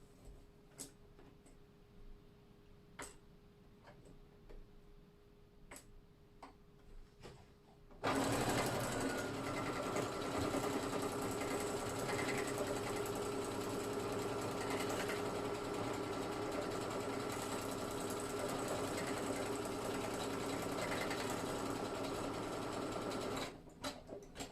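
Soft ticks and clicks come first, then a sewing machine starts up and runs in a loud, steady, fast whir while stitching a buttonhole on jeans, stopping near the end.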